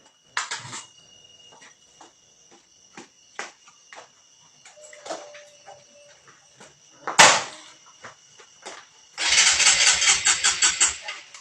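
A motorcycle engine cranks and catches near the end, settling into a loud, rapid idle after scattered clicks and knocks in a quiet setting.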